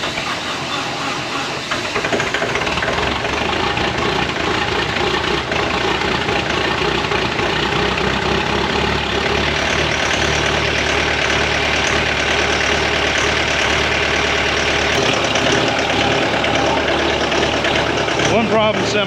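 A diesel truck engine idles roughly and sputters, a loud steady rumble that runs nearly throughout, with a brief rise near the end.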